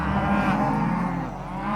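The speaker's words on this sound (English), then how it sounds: "I don't understand why they got to beller and yell though like a bunch of 5-year-olds" Cattle on a farm bellow loudly and close by, waiting at a gate to be turned out onto bean stubble and corn stalks. Overlapping moos fill the air without pause.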